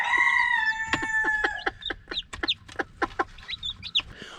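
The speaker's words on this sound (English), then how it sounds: "rooster's loud" A rooster on a farm with hatching chicks lets out a loud close crow, followed by a rapid run of sharp clucks and squawks from the chickens.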